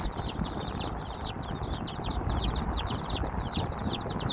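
Dense, continuous high-pitched cheeping from many young birds, loud and close, with a steady rustling bed underneath and no voices.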